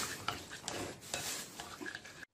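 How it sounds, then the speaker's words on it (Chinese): An egg is stirred into mashed white and purple sweet potato in a mixing bowl, giving close, intermittent scraping and squelching strokes that start and stop several times before ending abruptly. "把它搅拌均匀"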